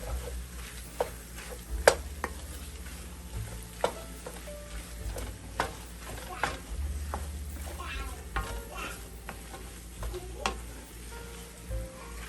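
Crawfish and crab etouffee being stirred in a very hot pot, a spoon scraping and knocking against the metal in scattered clicks over a steady low sizzle, close and moderately loud with no talk.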